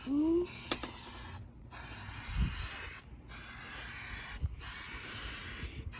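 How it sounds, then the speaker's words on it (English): Four long bursts of aerosol spray hiss, separated by short silences, close and steady, with a faint rattle near the start, while spraying a truck headliner. "Don't stand in the fumes of the spray, buddy."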